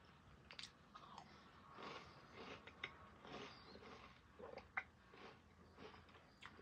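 Someone bites and chews crunchy Skinny Bars milk chocolate cereal pillows coated in milk, close and quiet, with irregular crisp crunches and soft mouth sounds and no talk.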